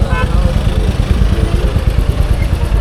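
A motorcycle engine running at Hola Mohalla in Anandpur Sahib, a close, loud, sputtering idle with rapid pulsing beats, under a voice talking.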